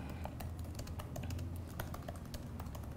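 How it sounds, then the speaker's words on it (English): Fingers tap steadily on a computer keyboard, a quick irregular patter of clicks heard up close and alone for a few seconds. "Now let me type in"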